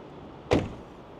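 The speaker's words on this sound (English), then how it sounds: "I can't help myself and do a door close test" An XPENG G6 car door swings shut with a single solid, muffled thump, close by, in an otherwise quiet moment.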